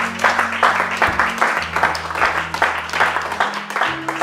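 A church congregation applauds the Lord with steady, loud clapping that fills the whole moment, dense and rhythmic, over a sustained organ-like tone.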